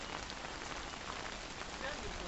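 Heavy rain falls in a dense, steady patter, a faint but even wash of drops on surfaces with no other sound standing out.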